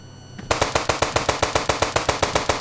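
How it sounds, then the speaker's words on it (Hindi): Rapid bursts of AK-47 automatic gunfire in the game Indian Bike Driving 3D, a loud, steady rhythm of about six shots per second that begins sharply after a brief quiet moment. "तो चलिए सीधा बंदूक निकालते और सीधा मारते इसको, AK-47 लेते।"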